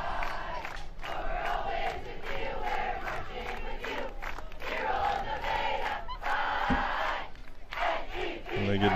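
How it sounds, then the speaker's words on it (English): Cubs football team chanting in unison in front of the crowd at a high school game, a loud rhythmic group shout with crowd noise underneath that continues steadily throughout. "great tradition for the Cubs here to do the nice chant in front of the crowd"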